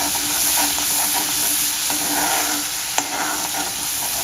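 Bombay duck curry masala sizzles loudly in a pan after a little water is added, a steady close frying hiss with a single sharp stirring knock partway through and no talk.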